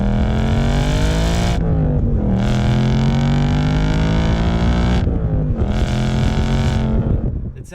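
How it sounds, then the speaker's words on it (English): A 2020 Ford Mustang Bullitt's Coyote V8 roars loud and close through its active-valve exhaust, revving hard in repeated pulls with brief dips between them, dense and continuous throughout. "It's about the sound of that Coyote motor heard through the active valve exhaust system"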